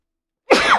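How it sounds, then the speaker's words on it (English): A single sudden human sneeze, loud and close, bursting out after a brief silence. "I got to sneeze."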